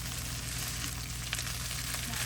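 Dirty rice with sausage sizzles in a pan, a dense, quiet frying hiss with a faint scrape or two of stirring, steady and close, no voices.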